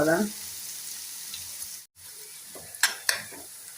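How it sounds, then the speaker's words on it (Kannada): Ground herb paste sizzles and crackles in hot oil as it is stirred for a homemade herbal hair oil, a steady frying hiss broken by a short gap and then a few sharp utensil clicks, with no voices. "ಎಲ್ಲ ರುಬ್ಕೊಂಡಿದ್ದೆಲ್ಲ ಇದಕ್ಕೆ ಹಾಕ್ತೇನೆ."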